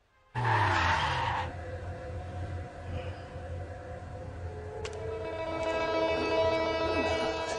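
A car in a Marathi feature film pulls away with a sudden loud screech of skidding tires, and a sustained tonal whine carries on after the initial burst.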